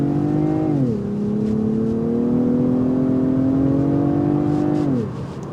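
A 2025 Lexus ES350 F Sport with a V6 engine pulls away under hard throttle, its steady rising drone holding loud and even inside the cabin before the pitch drops as it shifts and eases off.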